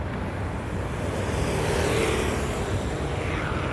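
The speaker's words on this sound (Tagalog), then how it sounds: "May motor." A motorcycle passes along a street, its engine a steady broad rumble that swells slightly mid-pass and then eases, heard amid continuous outdoor traffic noise.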